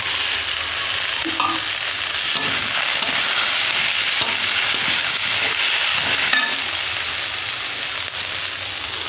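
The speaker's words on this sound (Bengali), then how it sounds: "এবার ডাঁটা আর লঙ্কাটা দিয়ে দেবো।" Drumsticks and green chilies fry in hot oil in a pan for a Bengali fish curry, a loud, dense, continuous sizzle with occasional stirring knocks, close up and without any voices.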